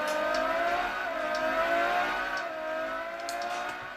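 A Ferrari 599 GTO engine in Real Racing 3 drones loudly and steadily, with its pitch sweeping up and down through gear changes for several seconds.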